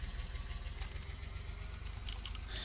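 A tractor engine runs steadily in Farming Simulator 19, a low, even mid-pitched drone held near constant throughout, fairly quiet and alone without talk.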